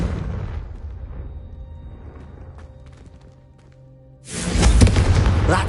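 A Confringo spell from a Hogwarts wizarding video game bursts into a loud, deep explosion near the end, following a few seconds of quieter rumbling ambience.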